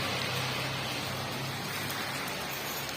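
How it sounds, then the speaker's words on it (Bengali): Heavy rain in Darjeeling, a dense, steady hiss of downpour that is close and fills the scene without any talking. "খুব জোর বৃষ্টি পড়ছে।"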